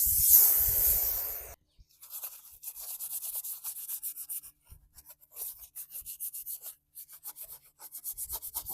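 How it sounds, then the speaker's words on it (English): Mag wheels scrubbed with Comet Wash to lift grime, giving close, steady rhythmic brushing strokes with brief pauses; a loud hissing spray opens the sequence. "I'm going to go ahead and use it on these mag wheels and just kind of see if I can get this whole grime scrubbed out of here."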